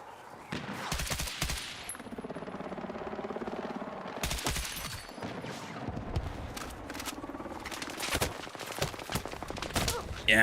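Rapid automatic fire from a new gun in Battlefield 6, with several loud bursts separated by brief gaps and some battlefield noise between them, all heard up close.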